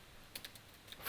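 A few soft, sparse keystrokes tap on a computer keyboard in a quiet room, ending in a louder thump.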